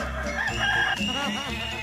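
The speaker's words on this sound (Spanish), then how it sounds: "vuelan gallinas" Chickens at a farm cluck and crow close by in a brief, busy burst of overlapping calls, with no talking over them.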